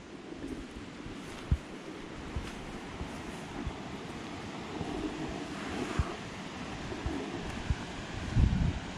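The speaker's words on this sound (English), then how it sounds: "Not sure if that's the dam or the rocks below the dam making all that noise over there." Water rushes over a dam and the rocks below it on a full lake outdoors, a constant roaring wash with occasional louder surges, heard from a distance with wind noise.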